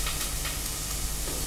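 Onions fry in a pan of melted fat as the base for butternut squash and peanut butter soup, giving a dense, continuous close sizzle without pause.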